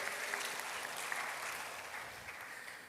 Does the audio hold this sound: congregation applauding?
yes